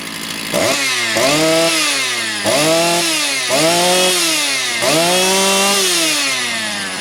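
A Motor Sich 270 chainsaw engine running close by, revving up and down in repeated swells of a loud, buzzing two-stroke drone, five or so throttle bursts with brief dips between them.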